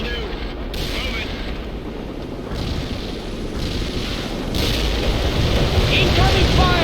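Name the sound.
incoming artillery fire and explosions in the video game World in Conflict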